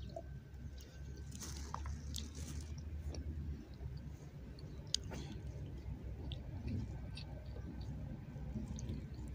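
Close, wet chewing and squishing of burek, soft bites and mouth sounds repeating irregularly at low level with faint background noise.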